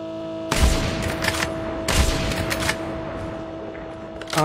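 Video game gunfire in an online shooter, two sharp bursts of rapid shots about a second and a half apart, fairly loud over a steady electronic hum, followed by scattered smaller pops and another burst at the end.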